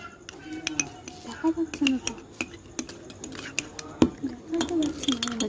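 Homemade slime mixed in a bowl, with light irregular clinks and taps of a utensil against the container and soft squelchy stirring, close and quiet.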